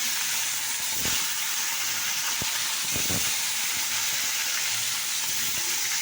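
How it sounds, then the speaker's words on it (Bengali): Fish frying in hot oil gives a steady, close, dense sizzle and hiss, broken by a few sharp crackles and taps, with no voices. "মাছটা তেল গরম হয়ে গেছে, আমি ভাজছি"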